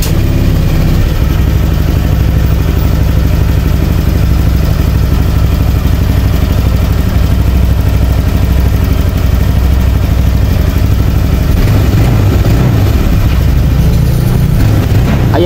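A Honda Click 150 scooter engine runs steadily after a top overhaul, a loud, close, even idle with a mechanical clatter and no talking over it.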